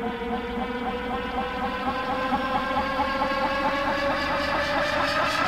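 A synthesizer patch produces a dense, sustained tone with a wavering, whirring texture that suggests spinning, holding loud and continuous throughout with a faint pulsing shimmer near the end.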